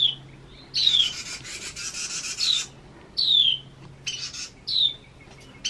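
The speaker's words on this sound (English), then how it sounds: "I heard a ruckus out here. These birds are going nuts." Birds call excitedly outdoors beside a permaculture market garden, with repeated sharp descending chirps broken up by bursts of raspy, scratchy scolding, all fairly close and without any talking.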